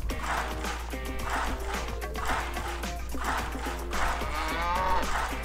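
A cow moos repeatedly in drawn-out calls during a cow-milking contest on a German game show, steady and fairly loud over a continuous low hum and background music.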